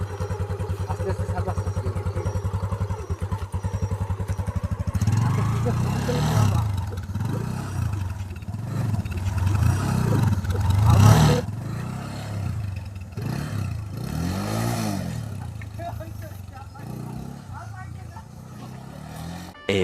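A motorcycle engine hums and revs steadily throughout, with several voices talking over it as the ride goes on, in a village in Barisal, Bangladesh.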